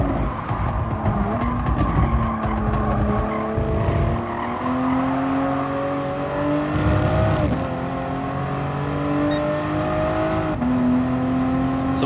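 A race car engine in Gran Turismo Sport during an FIA Nations 2019 online round drones steadily and close, its pitch climbing and dropping through gear changes with brief tire squeals. The engine seems to bog down at times.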